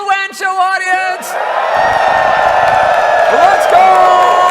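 A live crowd at the LTX 2023 convention breaks into cheering and whooping: a steady, loud wash of many voices that builds and holds after a brief spoken line at the start.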